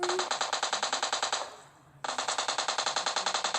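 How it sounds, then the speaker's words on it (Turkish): Rapid automatic gunfire from the mobile battle-royale game PUBG Mobile Lite, a steady stream of loud evenly spaced shots that pauses briefly mid-burst, then resumes just as fast. "Adam çok fena sıkıyor ya."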